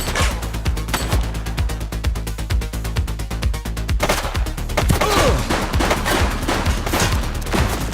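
Rapid bursts of gunfire in the police video game The Precinct: sharp, loud shots fire in quick volleys and overlap into a dense, continuous fusillade, with a few heavier crashing hits partway through.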